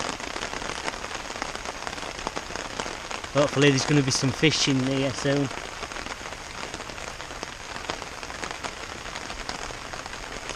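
Steady rain falling outdoors in Yorkshire, a constant close hiss and patter of drops throughout, with someone talking briefly in the middle.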